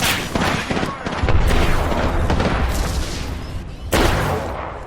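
Rapid gunfire crackles through an Apex Legends firefight, dense bursts and booms piling up close and loud, with a sharp new volley near the end and no voices.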